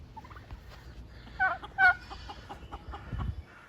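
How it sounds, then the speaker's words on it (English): A sweetgrass turkey tom on a small farm gives a couple of short gobbling bursts close by, with quieter clucks and rustling around them and no talk. "Right up here we got another turkey."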